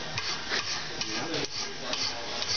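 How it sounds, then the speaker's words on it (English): A hand file rasps back and forth in steady repeated strokes, close and moderately loud, with no talking over it. "Still filing."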